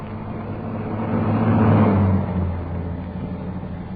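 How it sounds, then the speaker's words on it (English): A post office van draws closer in a radio drama: a low engine hum swells to a peak at mid-clip and then eases off, with no talk over it. "the first post office van was already approaching"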